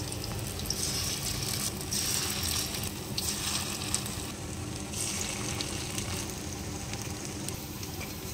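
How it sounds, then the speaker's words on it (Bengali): Fritters made with Malabar spinach leaves bubble and sizzle in hot oil in a wok, a dense continuous crackling hiss that holds steady throughout with small pops and no talking. "কড়াইয়ে পরিমাণ মতো তেল গরম করে নিয়ে তার মধ্যে বড়াগুলোকে ছেড়ে দেওয়া হচ্ছে"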